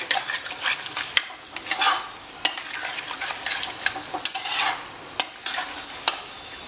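Chilli chicken sizzles in a pan over high gas while a spoon stirs and scrapes against the metal in irregular clinks over a steady frying hiss.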